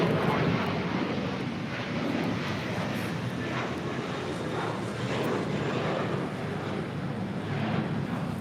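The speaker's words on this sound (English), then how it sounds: "Atlas Air Flight 8133 heading back to Seoul to 747-400 freighter." Atlas Air Boeing 747-400 freighter at LAX, a steady broadband jet engine roar that stays loud and even throughout, with some wind buffeting and no talking.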